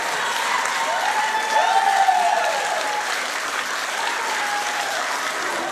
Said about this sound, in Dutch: Een heel hard applaus voor Floris.